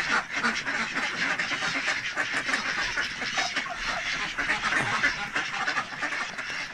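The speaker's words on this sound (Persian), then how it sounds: "حالا میریم سراغ اردکا" A flock of ducks quacks continuously and loudly up close, overlapping calls forming a busy, noisy chorus.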